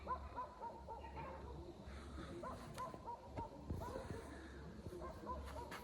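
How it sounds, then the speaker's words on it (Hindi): Dogs bark repeatedly in the distance, faint and scattered, while people talk quietly nearby. "कुत्ते भौंक रहे भाई रेगुलर।"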